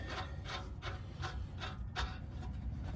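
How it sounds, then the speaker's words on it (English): A nut is threaded onto a suspension arm bolt on an Explorer ST, producing close, repeated rhythmic metallic rasps and ratcheting scrapes at a steady pace, with no voices. "now we're going to try and put our nut back"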